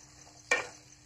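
One brief scrape of a spatula through potatoes, peas and turmeric in a cooking pan, close and short against a faint background hum.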